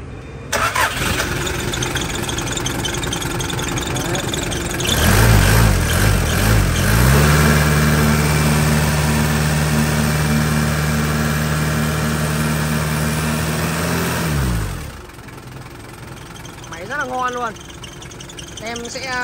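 A Toyota 8FD30 forklift, a Japanese import, starts up and idles with a steady low diesel rumble for several seconds before shutting off, close by, with someone speaking over it.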